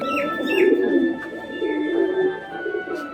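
A male Rampuri pigeon coos close by in low, throaty rolling notes, with a few faint chirps in the background.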